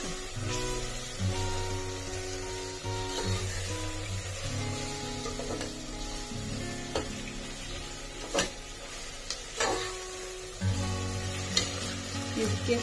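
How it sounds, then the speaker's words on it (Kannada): Chopped mint and coriander leaves frying in a pan for chicken biryani, a steady hissing sizzle with occasional ladle clinks and stirring scrapes, close by, over a faint background hum, no one talking. "ಇವಾಗ ಕಟ್ ಮಾಡ್ಕೊಂಡಿರೋ ಪುದೀನ ಮತ್ತೆ ಕೊತ್ತಂಬರಿ ಇಷ್ಟು ಹಾಕಿ ಇದನ್ನು ಕೂಡ ಫ್ರೈ ಮಾಡ್ಕೋಬೇಕು"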